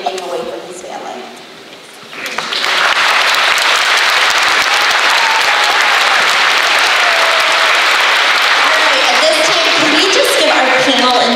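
An audience at a school veterans honors program breaks into loud, sustained applause after a brief quieter stretch, the dense clapping holding steady to the end.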